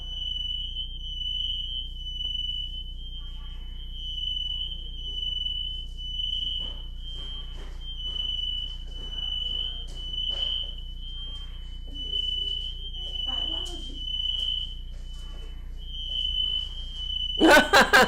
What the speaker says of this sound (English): we're having a fire alarm going off.